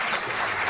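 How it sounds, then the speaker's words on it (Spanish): An audience applauds guest Jesús Callejo with a dense, continuous wash of clapping that lasts under a second. "Os pido un aplauso para él"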